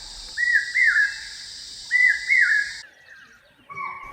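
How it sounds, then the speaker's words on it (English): A common hawk cuckoo gives repeated rising whistled calls in short paired phrases over a steady high electronic tone in Pench National Park forest, then a softer call follows. "the common hawk cuckoo, also known as the brain fever bird"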